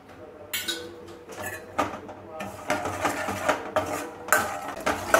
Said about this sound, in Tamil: முந்திரி பாதாம் தான் வந்து வறுப்பட ஆரம்பிச்சிருக்கு